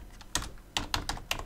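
A router command is typed on a computer keyboard in five or six crisp, close keystrokes with uneven spacing. No one speaks.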